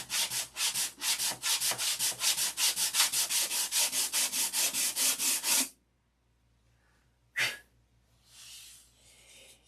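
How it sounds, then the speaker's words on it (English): A surface sanded by hand with 320-grit paper: a steady run of rapid, even back-and-forth rubbing strokes, close and loud, stopping abruptly and followed by near silence with a single brief knock and faint rustling. "This is a 320 sand out tonight."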